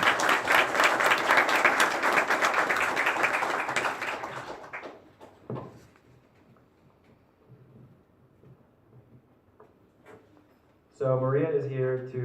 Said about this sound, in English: let's give Maria Gamboa a big round of applause